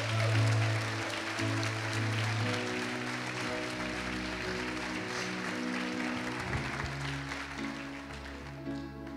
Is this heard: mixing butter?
no